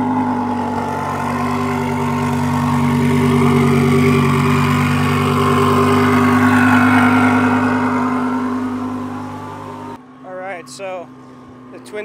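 A turbocharged Lamborghini Huracan idles at a drag strip while lining up to run, a steady low engine rumble that swells and eases over several seconds before cutting off, followed by brief nearby talking.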